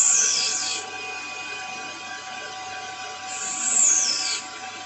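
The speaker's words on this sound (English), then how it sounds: "we're going to go in and out making small cuts across our part, applying a small bit of coolant onto the tool" Small facing cuts taken on a metal bushing in a lathe, the tool moved in and out with a little coolant: a steady mechanical hum with two brief high scraping passes as the cutter crosses the face.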